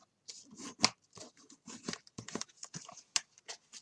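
Paper being folded and creased along a line for a hot air balloon book-folding project, with a run of close, crisp rustles and sharp creasing snaps alone in a quiet room.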